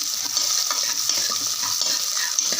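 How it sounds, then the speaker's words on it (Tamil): Shallots sauté in hot oil for a village-style country chicken curry cooked in a pressure cooker, giving a steady close sizzle with light stirring scrapes throughout. "நல்லா எண்ணெயில் வதங்கட்டும்"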